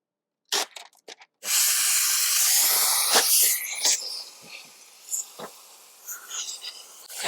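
A handheld steamer hisses in one long continuous blast while window tint film is being peeled off, close and loud, preceded and followed by short sharp puffs and crackles.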